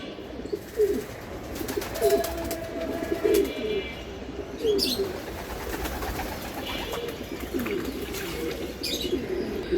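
Racing pigeons at a loft in Mirpur, Dhaka, during bathing time, cooing repeatedly in soft, low, overlapping calls with occasional chirps and a brief flutter of wings, close and continuous.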